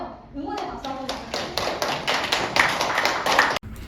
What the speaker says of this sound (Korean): 응원의 박수 한번